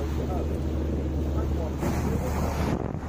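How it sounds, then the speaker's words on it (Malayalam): A small motorboat speeds through sea waves off Llandudno, Wales, with a steady engine and water rush buried under strong wind buffeting the microphone throughout. "ഞങ്ങളുടെ ഈ കുഞ്ഞൻ ബോട്ട് ഇപ്പം തിരകളെയൊക്കെ കീറി മുറിച്ചുകൊണ്ട് പാഞ്ഞു കുതിക്കുകയാണ്."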